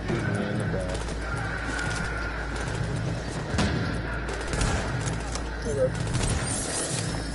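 Rapid gunfire bursts and crackling shots in The Division game, mixed with a busy layer of ambient combat noise and a player talking excitedly over the action.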